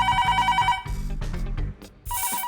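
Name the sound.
telephone ringing repeatedly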